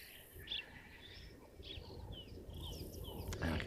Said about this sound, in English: Also hear the Natal spurfowl.